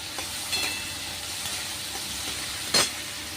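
Potatoes and chickpeas fry in a pan as tomato is added for a potato and chana sabji. A steady close hiss of frying fills the scene, with a couple of brief sharp spatters and no voices.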